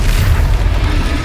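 A Confringo blasting curse in Hogwarts Legacy goes off as a short, loud, booming explosion with a rumbling, noisy body, filling the moment without any voices.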